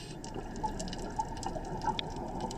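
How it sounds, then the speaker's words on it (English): Underwater at an oil rig, bubbles from scuba divers below rise and burble past, a soft steady watery hiss dotted with small popping blips, faint and continuous. "Divers, bubbles from divers below bubbling up here."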